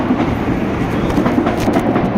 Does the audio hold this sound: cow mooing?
no